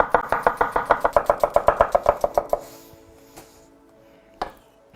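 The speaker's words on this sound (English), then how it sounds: "The shallots need to be sliced very thinly." A knife slices shallots very thinly on a cutting board for Thai tom yum soup, a fast, even run of about twenty crisp chops that stops abruptly, followed by quiet with a couple of isolated knocks.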